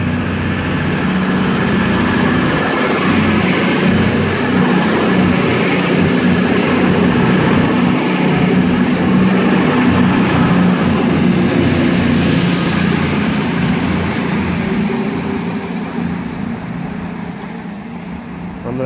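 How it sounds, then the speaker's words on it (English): CrossCountry Class 221 diesel unit departing Bristol Parkway on a service to Aberdeen, a loud, steady engine drone and rolling rail noise that holds close for most of the span before easing slightly near the end. "leaving now is the 11:39 cross-country service to Aberdeen from Plymouth"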